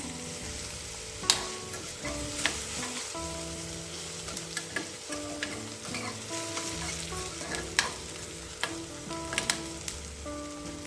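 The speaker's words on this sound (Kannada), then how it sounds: "ಈರುಳ್ಳಿ ಸಣ್ಣ ಕಟ್ ಮಾಡಿದ್ವಿ ಅದನ್ನ ಹಾಕ್ಕೊಳ್ಳೋಣ ಕೆಂಪಗಾಗೋರಿಗೆ ಫ್ರೈ ಮಾಡ್ಕೊಳ್ಳೋಣ" Finely chopped onion crackles and sizzles in hot tempering oil with curry leaves and dried chillies, a steady close frying hiss dotted with repeated sharp pops and spoon taps as it is stirred.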